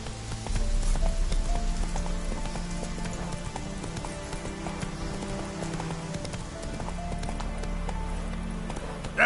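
Geralt's horse Roach trotting in the video game The Witcher 3, a steady clip-clop of hooves at an even rhythm, close and clear over a soft patter of ambient noise.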